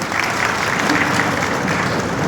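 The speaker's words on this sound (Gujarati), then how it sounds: "એમને ફરી આપણે સૌ તાળીઓથી વધાવીએ" A crowd at a Narmada works foundation-stone ceremony applauds to welcome a water resources minister, a dense, steady roar of clapping that stays loud and even throughout.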